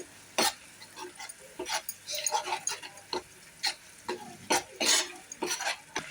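Mushroom masala gravy bubbles and sizzles gently in a pan, with soft stirring scrapes and small pops scattered irregularly, quiet and close.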